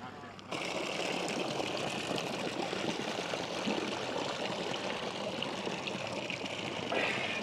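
Stream running outdoors in the hills near Sarajevo, Bosnia, a steady broad rushing flow that starts suddenly and continues unbroken at moderate loudness, close by, with a voice heard briefly at the start.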